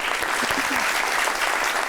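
A television studio audience delivers a steady burst of dense applause, loud and even throughout with no break.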